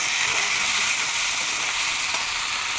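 Ginger, cumin, garlic and chili pastes sizzle in a frying pan, a steady bright hiss of hot oil that stays loud and even throughout with no voices.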